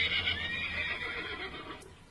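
Horse whinnying loudly at a zoo, a long shrill neigh that wavers and fades over about two seconds, close and heard alone without talk.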